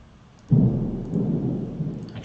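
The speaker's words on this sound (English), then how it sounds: "Actually, it's raining in my place." Rain falling outside with a sudden low rumble of thunder that rolls on for about two seconds, steady and moderately loud beneath no speech.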